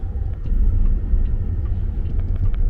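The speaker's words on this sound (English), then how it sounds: "The car's pulling us over, doors have unlocked, and we have arrived." Self-driving car in a Chinese city pulling over to stop, a steady low road rumble and engine hum from inside the cabin with no talking.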